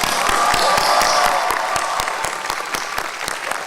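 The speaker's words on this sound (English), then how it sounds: "join me in an especially big, rousing round of applause for the faculty, the staff, and the faculty emeriti of Phillips Academy" A commencement audience at Phillips Academy gives a big, rousing round of applause. Dense, steady clapping fills the hall at close range, with individual claps standing out.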